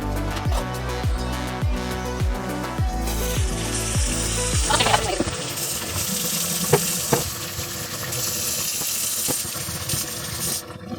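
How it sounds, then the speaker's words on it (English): Warm water runs from a kitchen tap into a sink, a steady hiss and splash that continues throughout, with a few clinks and knocks of dishes partway through and no talking. "I'm going to put some warm water."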